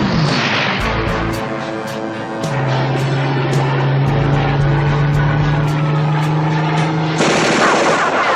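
Rapid gunfire rattles from a TV-series helicopter, a loud sustained burst over a droning rotor and engine, with a steady tone holding through the middle before the firing shifts in pitch near the end.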